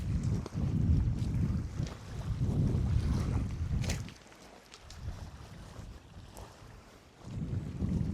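Gusty wind buffets a microphone aboard a small boat on the Norwegian coast, with loud low rumbling surges that ease briefly before picking up again; no one speaks.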